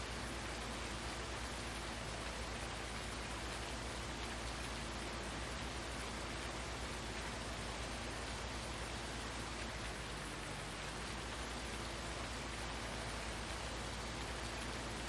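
Rain falls in a farming video game set on the Felsbrunn map, a steady, unbroken hiss that stays even throughout with no voices.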